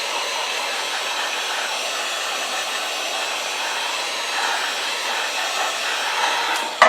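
A heat tool blows hot air onto Worbla thermoplastic, a steady, moderately loud whooshing hiss that runs unbroken, with a brief knock right at the end.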